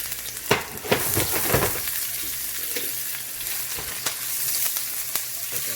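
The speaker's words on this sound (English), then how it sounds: "our oil is getting hot right now, so let's put this some garlic, some onion" Garlic and onion dropped into hot oil, a few clattering taps at the start and then a continuous crackling sizzle with occasional sharp spatters and stirring clicks.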